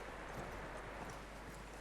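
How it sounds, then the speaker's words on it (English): Horse hooves clip-clop steadily in Red Dead Redemption 2, a soft, even rhythm of footfalls at moderate distance over a constant low background, with no talk. "That looks like a decent horse. You should keep him."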